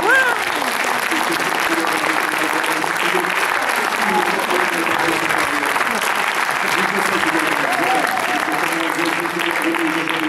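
Studio audience on a French radio show applauding a singer, steady loud clapping throughout with a speaking voice running over the top.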